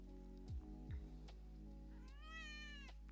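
A house cat gives a quiet, drawn-out meow near the end, preceded by a couple of soft low thumps over a steady background hum, with no talking.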